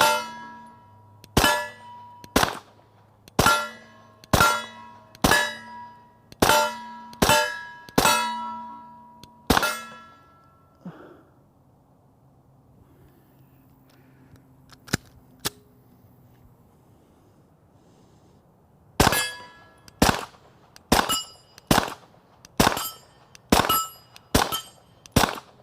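Shots from a Stoeger STR-9S semi-auto pistol ring off a steel plate, a steady string of sharp clangs, then a quiet gap with a couple of faint ones, then another rapid string of metallic pings.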